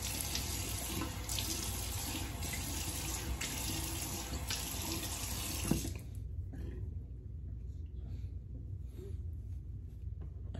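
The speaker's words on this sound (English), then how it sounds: "and switch it over to cold water." A sink tap runs a steady stream of water for a cold rinse after shaving, loud and continuous, then the flow changes and quiets partway through as the water is switched over.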